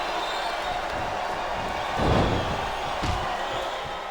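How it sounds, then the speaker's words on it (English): A large arena crowd in WWE SmackDown vs. Raw 2008 roars steadily throughout a wrestling match, with a heavy ring slam swelling the noise midway. "This capacity crowd is making their opinions known tonight."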